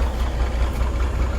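A truck's diesel engine idles roughly with bad injectors, a steady low rumble that runs loud and unbroken throughout.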